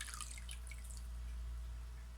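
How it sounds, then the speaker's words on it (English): Water drips and trickles from a handful of wet shredded paper being squeezed out, a brief cluster of close splashy drips at the start that quickly fades, leaving a low steady hum underneath. "You're going to squeeze out the moisture"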